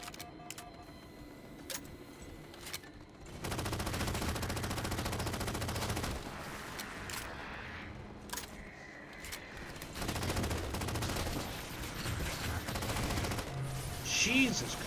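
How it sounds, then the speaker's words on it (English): Rapid bursts of binary rifle fire ring out during Halo 4 gameplay, loud sustained volleys lasting several seconds with brief gaps between them, over a busy game soundscape. "Oh, binary rifle, probably."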